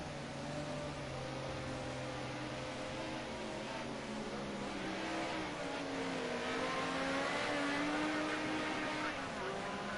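Racing cars, including a Ford Sierra, circulating at Zolder in a racing game: several engines drone and rise in pitch together in a constant, loud, overlapping whine.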